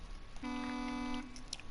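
A truck horn in the racing game Need for Speed Heat gives one steady, buzzy blast lasting under a second. It sounds clear and fairly loud over a quiet game background, with faint clicks after it.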